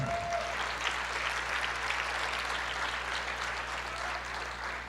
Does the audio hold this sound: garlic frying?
no